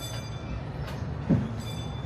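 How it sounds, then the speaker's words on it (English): A Disneyland Railroad train running on a foggy day, with a steady low rumble of wheels and rolling stock and one brief clunk partway through. "Thanks for joining us on the Disneyland Railroad."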